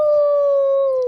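A neighbour's dog lets out a close, loud, continuous howl. It holds a steady pitch for the whole second.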